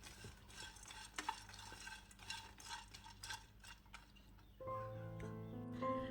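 Pumpkin and sunflower seeds stirred in a hot kadai give a steady scraping, rattling stir close by, with a humming tonal drone joining in the last second or so.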